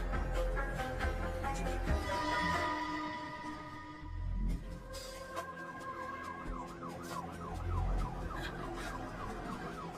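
An ambulance siren wails continuously with rising and falling tones, fairly close, over rumbling traffic noise; no voices.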